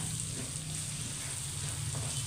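Onions and garlic sauté in butter for cauliflower. A steady, close, even sizzling hiss continues without a break, with no voices.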